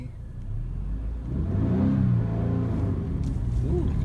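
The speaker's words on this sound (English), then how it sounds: "Turn on car. Parking brake first, and then slowly." A manual-transmission car pulling away from a stop, its engine rising in a low rumbling rev that climbs and settles, heard from inside the cabin as a continuous mid-level drone.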